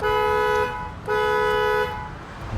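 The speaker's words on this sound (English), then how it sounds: "He honked his horn." A car horn honks twice at a gas station pump, two sustained toots separated by a short gap, over a low rumble of traffic.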